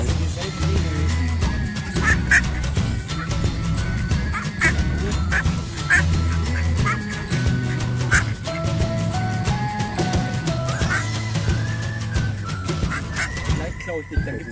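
Geese at a feeding spot in Ebermannstadt, Germany honk and quack in frequent nearby calls, while people talk over them throughout.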